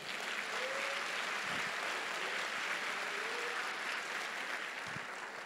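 A congregation at a church service applauds in a continuous, even wash of clapping that holds steady from start to finish.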